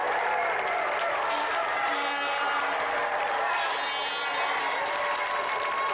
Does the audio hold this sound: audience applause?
yes